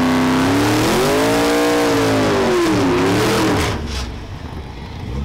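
At a House of Speed 2024 drag race, a 1979 Chevy and a 1995 Mitsubishi Lancer Evo 3 roar nearby, the loud engine note climbing and wavering for several seconds before dropping away to a quieter rumble.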